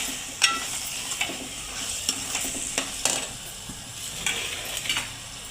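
Fresh, washed green peas go into a hot pan and are stirred, giving a steady sizzle and frying hiss broken by scraping stir strokes at an irregular rhythm, close and fairly quiet, with no talking.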